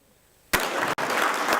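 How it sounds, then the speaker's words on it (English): Conference audience bursts into loud applause after a brief quiet moment, a dense wash of clapping from many hands that holds steady, broken by one tiny gap. "I'd like another clap."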